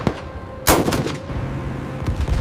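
Anti-aircraft guns aboard the USS Yorktown open fire in a loud, sharp opening blast, then keep up rapid, rattling bursts of gunfire over a rumbling battle din.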